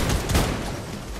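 Rapid gunfire in a shooter video game, a brief loud burst of overlapping shots.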